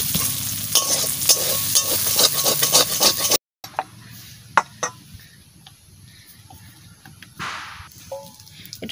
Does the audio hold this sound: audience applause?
no